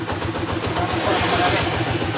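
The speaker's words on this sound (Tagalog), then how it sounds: "Ganda po ng andar ng motor ni Sir. 2009 model po to ha." 2009 Honda TMX155 motorcycle engine idling steadily after timing gear and cam follower replacement, an even mid-pitched putter heard up close in a workshop.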